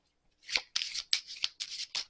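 Tarot cards are shuffled in several quick riffling bursts, crisp papery flutters spaced about a quarter second apart, close and fairly quiet, with no talking.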